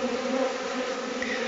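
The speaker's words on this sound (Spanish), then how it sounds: "fíjense en la cantidad de abejas meliponas. Esta es la melipona mimética." Melipona stingless bees, the mimetic Melipona species, buzz steadily while feeding from a bucket feeder, with a dense, continuous drone that holds at an even level throughout, close and unbroken.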